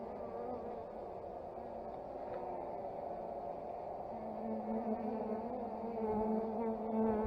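Honey bees buzz over a hive frame during a colony split, a close, continuous droning hum that swells slightly louder toward the end.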